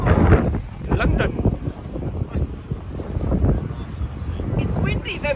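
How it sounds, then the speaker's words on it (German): Strong wind buffets the microphone with loud rumbling gusts throughout, outdoors in London, while faint voices sound in the background. "It's windy"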